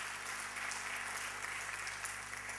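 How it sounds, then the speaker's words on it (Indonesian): Congregation applauding in a church, steady sustained clapping from a large crowd, fairly distant under a low hum, no talking over it. "Berikan tepuk tangan bagi Allah kita."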